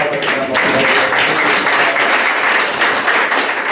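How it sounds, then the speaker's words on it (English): At a theological seminary research forum, an audience gives a clap of thanks to the panelists, a loud sustained round of applause filling the room with a faint voice beneath it. "Can you give a clap of thanks for"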